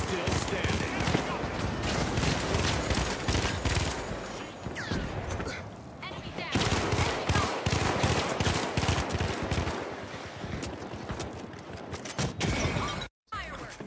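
Rapid gunfire in the arena shooter The Finals, dense bursts of automatic shots with clattering impacts and debris running almost continuously, mixed with game effects and someone talking.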